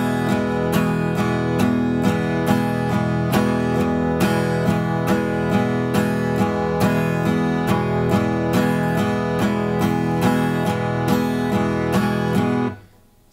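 Acoustic guitar strummed steadily with alternating down and up strokes, a brisk even rhythm of bright chord hits lasting about twelve seconds before stopping abruptly, close and alone.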